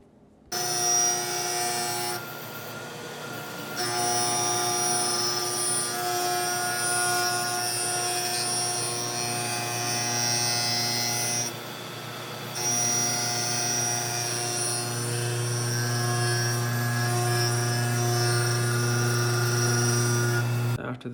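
A surface grinder's wheel grinds a blade fed on an automatic conveyor, giving a steady, loud whine with bright high overtones and a low hum that holds even for the whole stretch, with no talk over it.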